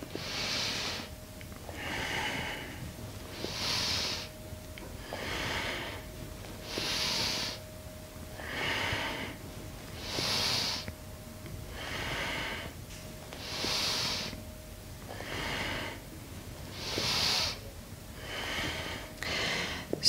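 Slow, deep yoga breaths repeat steadily, each long airy inhale or exhale surging and fading in an even rhythm, close and alone in a quiet room with a faint steady hum.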